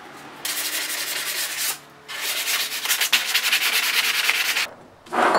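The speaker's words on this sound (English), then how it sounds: "First, I start by sanding off the sharp edges." Hand sanding of wood with sandpaper to soften sharp edges: three bursts of close, dry, rhythmic back-and-forth rubbing separated by short pauses, with no talking.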